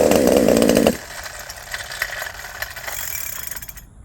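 A 372XP clone chainsaw on stock timing bursts out loud and close for about a second, then cuts back to a quieter idle with faint rattles before dropping away near the end.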